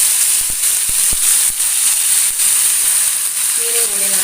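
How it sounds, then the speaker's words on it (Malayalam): Fish frying in coconut oil with curry leaves in a pan, a steady close sizzle with scattered pops and crackles throughout, no talking. "മീനും കൂടി നമുക്ക് വറുത്തെടുക്കാം."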